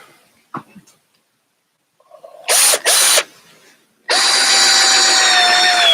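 A power drill drives long five-to-six-inch screws into salvaged redwood fence boards: two short whirring bursts, then a longer sustained run, loud and close after a few quiet handling sounds.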